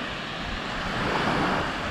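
Sea surf at a quiet Greek beach near Sarti, a soft continuous rush of waves mixed with wind noise on the microphone, swelling slightly partway through.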